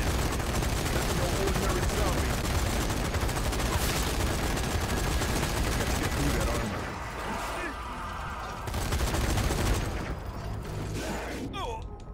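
Heavy machine gun fire in the zombie shooter game Zombie Army 4 rattles densely and continuously for about six seconds, then thins into scattered bursts with mechanical clanks and a brief voice.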